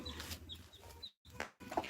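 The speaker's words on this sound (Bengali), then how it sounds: "এই যে দেখেন মুরগির বাচ্চা ফুটেছে" A hen with newly hatched chicks gives soft, close clucks, with thin high peeps from the chicks scattered through the short stretch and a brief silent gap midway.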